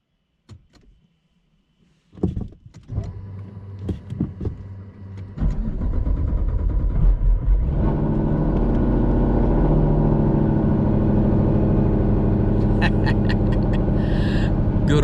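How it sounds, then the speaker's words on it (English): A car engine cold-starts, heard from inside the cabin: a brief click, then a few seconds of starter cranking before it catches. It settles into a loud, steady high idle that continues alone. "this cold start from inside the car"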